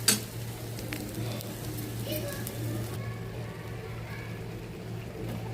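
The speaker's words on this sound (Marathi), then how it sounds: "आपलं वाटण परतलं आहे, छान परतलं आहे मस्तपैकी, तेल सुटलं आहे त्याला बघा कढईने" Ground masala paste sizzles in oil in a kadhai as it is stirred, a soft close crackle with faint scraping and light pan clinks, while a voice talks over it.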